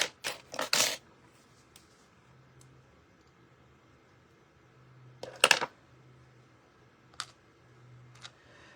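A few short, crisp snipping sounds close by: a quick cluster at the start, another around the middle, then two lighter snips, with quiet room tone between.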